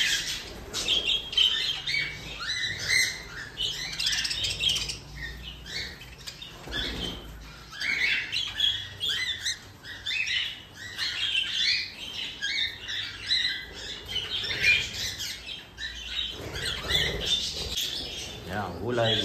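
Pet cockatiels eating vegetables squawk and chirp in shrill, rapid bursts close by, with pecking and rustling between calls and a voice speaking intermittently underneath.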